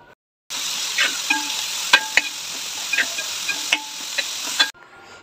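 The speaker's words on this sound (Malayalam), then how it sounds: "ഇതെല്ലാം കൂടെ നന്നായി നമുക്കിതൊന്ന് വഴറ്റിയെടുക്കാം" A spoon stirs crushed mint, green chilli and coriander as they sauté in a hot pan for beef biryani. A steady, close sizzle with sharp clicks and scrapes of the utensil against the pan.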